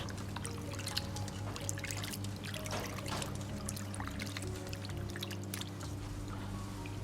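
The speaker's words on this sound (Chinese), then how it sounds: "接着把切好的羊肉放入清水中清洗一下" Cut pieces of lamb are rinsed in a bowl of clean water, making a faint, continuous soft trickling and sloshing over a low steady hum, with no talking.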